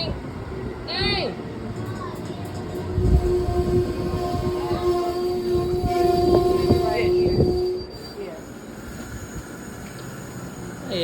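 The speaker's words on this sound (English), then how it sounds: "train moving forward a little." An Amtrak train at New Carrollton station, with squealing wheels and a rumbling run of cars, a brief horn-like tone and steady rail noise throughout, while people talk nearby.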